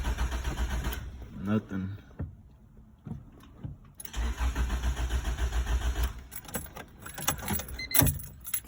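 Honda B-series engine cranking without catching: repeated starter bursts separated by quiet gaps, close and fairly loud, with keys jangling and a brief rev attempt.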